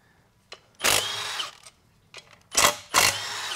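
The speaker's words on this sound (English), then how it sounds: "We're gonna get our bolts out real quick." Power tool spinning out transmission pump bolts on a 6L80E gearbox in quick bursts, with a short blip followed by two louder whirring runs, close and without speech.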